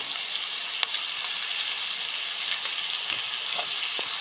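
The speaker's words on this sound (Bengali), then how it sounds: "মিশিয়ে নিয়ে একটু ভেজে নেব আমাদের মশলাগুলো" Spices and tomato for tarka dal fry in hot oil, giving a steady, close sizzle with a few faint clicks and stirring knocks scattered through, with no talking.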